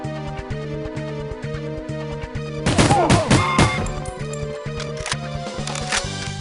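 Shots from a gun in the video game 007: The World Is Not Enough, a rapid cluster of loud reports over a steady looping music bed, with a few scattered shots after.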